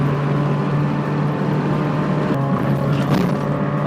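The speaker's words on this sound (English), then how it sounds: "immediately I can tell you that the exhaust sounds fantastic" A modified Honda City with a port-polished engine drones steadily through its exhaust, a loud, continuous tone that holds its pitch at close range throughout.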